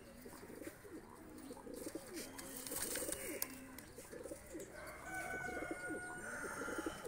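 Pakistani pigeons coo softly and repeatedly nearby, a steady run of low throaty calls with other birds chirping faintly in the background.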